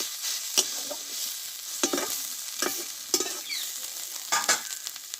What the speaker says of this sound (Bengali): আমি চার থেকে পাঁচ মিনিট মতো ভালোভাবে কপির ডাটাগুলো কষে নিয়েছি